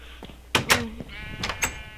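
Sheep bleating in the Minecraft video game: a couple of short, clear synthetic bleats in quick succession, then another pair a moment later over a faint background hum.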